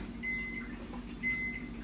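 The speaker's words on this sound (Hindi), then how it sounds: "तो इसको मैंने गर्म होने के लिए रख दिया है 30 सेकेंड इन माइक्रोवेव." A microwave oven runs for 30 seconds heating a mug of a morning drink at home, giving a faint steady low hum with a soft whirring turntable and no talking.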